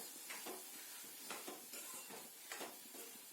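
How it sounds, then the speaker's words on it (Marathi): Field bean seeds being stirred into masala in a pan for a dry vegetable dish, with soft scraping strokes and a faint sizzle repeating every second or so, quiet and close, without talk. "आता आपला मसाला झालेला आहे, आपण याच्यात दाणे टाकूया।"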